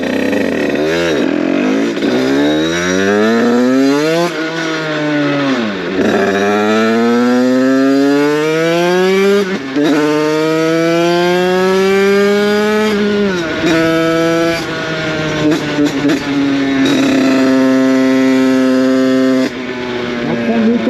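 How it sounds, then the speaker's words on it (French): A 70cc motorcycle engine with a Stage 6 R/T kit revs repeatedly up and down through rising and falling sweeps while warming up, loud and close, settling into a steady high drone near the end. "Faire chauffer la moto correctement quand même."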